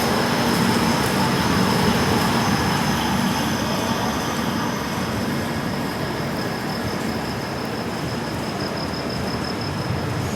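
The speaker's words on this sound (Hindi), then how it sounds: "चलिए, मात्र 2 मिनट के हॉल्ट के बाद हमारी ट्रेन निकल चुकी है बासर से।" Ajanta Express rolling out of Basar station after a two-minute halt, heard from aboard as a loud, constant rumble and rattle of the moving train with a faint high whine.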